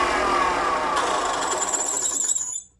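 A power tool grinds the points of small wooden stars for a layered Christmas tree, a loud whining buzz with squealing contact that runs steadily, then cuts off abruptly at the end.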